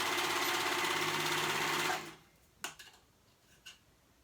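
A sewing machine runs steadily as it stitches the short edge of a fabric band closed for a dress, its whirring drone lasting about two seconds before stopping, followed by a couple of faint clicks and handling noises.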